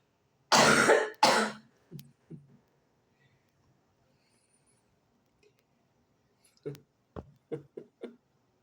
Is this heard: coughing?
yes